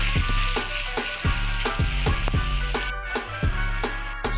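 Ground pork and beef sizzle loudly in a pan after sautéing for tacos, a dense close frying hiss broken by rhythmic scraping strokes of stirring, with no voices.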